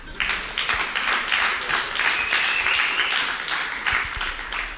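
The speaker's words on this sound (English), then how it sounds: "So you're supposed to clap here." An audience at a start-up pitch event in Toulouse breaks into dense, steady applause that fills the room from start to finish at an even, fairly loud level.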